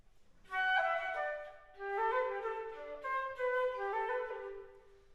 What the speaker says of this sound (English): if we play this same excerpt with the slur 3, tongue 1 articulations added, it would sound like this